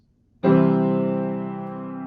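A single piano triad struck once by the left hand, low and full, ringing out and slowly fading.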